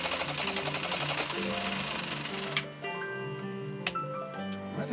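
A Husqvarna Viking Type 51E sewing machine runs a decorative stitch with a fast, steady mechanical chatter, then stops abruptly partway through, leaving quieter ticks and faint hum.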